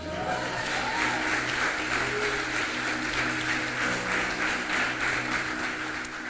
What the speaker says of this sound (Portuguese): Levante sua mão e aplauda ao Senhor.